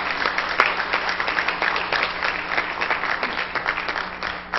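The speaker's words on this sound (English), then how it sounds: "let's give him and the Lord a hand clap of appreciation" A church congregation at a Pentecostal Sunday morning service applauds steadily for several seconds, a dense wash of hand claps at moderate loudness filling the room, with no talk over it.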